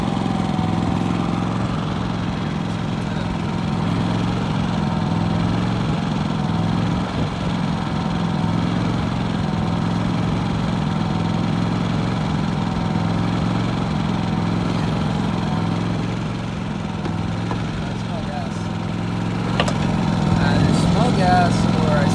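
A portable genset runs steadily under load inside a van, a continuous droning engine hum that persists throughout with slight rises near the end, while people talk nearby.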